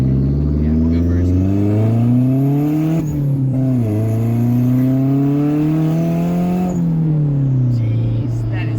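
A Toyota MR2 engine revs loudly and close up, climbing to 4,000 RPM in two long pulls that drop back in between, with a sustained roaring drone.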